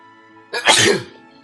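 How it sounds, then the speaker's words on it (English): A single sudden sneeze bursts out at close range, loud and sharp with a breathy release, then fades, with a faint steady hum underneath during a coding session at a desk. "Gotta sneeze."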